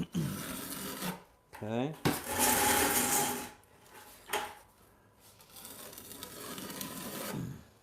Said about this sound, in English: So you'll scrape away your excess thinset there.